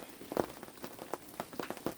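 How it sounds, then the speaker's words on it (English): Light rain patters on an umbrella outdoors, soft scattered drops tapping irregularly at close range, quiet with no voices. "this is just light rain. I'm sure you can hear it on the umbrella."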